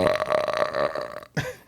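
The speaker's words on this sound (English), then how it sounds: "And burps, he does that also." A loud, close burp right into the microphone, a drawn-out guttural croak lasting about a second and ending with a short final gulp.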